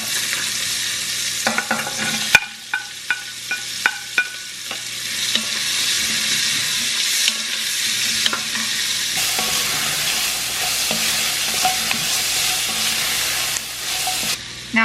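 Onion, celery and garlic sauté in a beef stew pan with a steady loud sizzle throughout, broken by repeated scraping stirs of a utensil against the pan; no one speaks.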